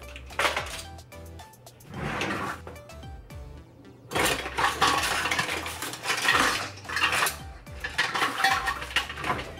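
Metal ice cream scoop clanks and scrapes against a sprayed foil-lined baking pan while cookie dough is portioned out, with repeated clattering knocks and rattles, fairly close and loud, no talking.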